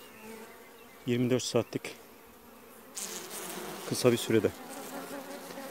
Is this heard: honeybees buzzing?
yes